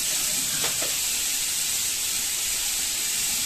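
Whole spices hit hot oil in a pan while cooking anda thali, a loud steady sizzle and hiss filling the space close up, with a couple of brief crackles near the start and no talking.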